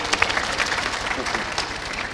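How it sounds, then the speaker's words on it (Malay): An audience at a celebrity talk event applauding, dense clapping from a crowd that stays loud and steady throughout. "kita bagi tepukan gemuruh untuk Ustaz Azhar Idrus"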